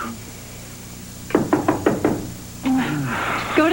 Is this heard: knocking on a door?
yes